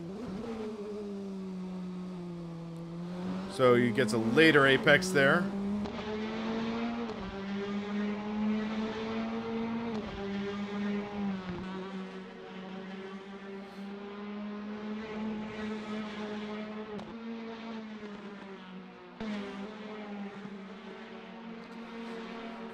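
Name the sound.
Praga R1 four-cylinder race car engines in a sim racing video game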